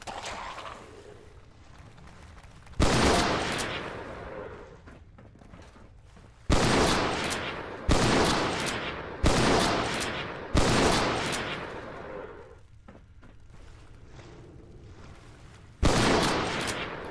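Gunfire in Fallout 4 with a modded AI, six loud separate bursts spaced a second or more apart, each decaying over a quiet stretch of lower game ambience.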